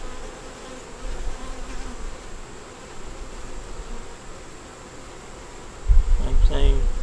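A steady, dense buzz of many honey bees fills the air close by, growing louder and rougher near the end as something shifts nearby.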